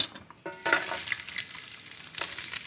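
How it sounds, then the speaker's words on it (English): Carrots sauté in extra virgin olive oil in a large skillet, a soft close sizzle with a few stirring clatters at the start and a brief swell of crackle near the end. "heat 2 tablespoons of extra virgin olive oil and cook the carrots in that pan"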